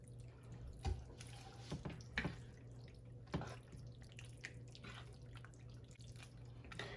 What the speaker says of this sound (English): I'm just gonna add some pasta water just to loosen it up just a little bit.